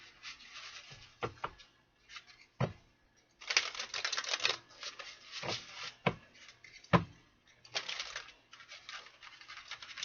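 Tarot cards being shuffled by hand: crisp, crackling riffles in short bursts with pauses between, close and fairly quiet, with no talking.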